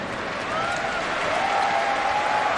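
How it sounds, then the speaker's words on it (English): An arena crowd at an ABL basketball game between San Miguel Alab Pilipinas and CLS Knights Indonesia claps continuously, with dense, steady applause filling the whole stretch and a faint announcer's voice underneath. "Crowd already applauding this win for Alab Pilipinas."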